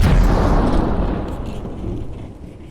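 A turret shot from a Space Engineers warship blasting a hole into light armor, heard as a loud, deep explosive boom that rumbles and slowly fades.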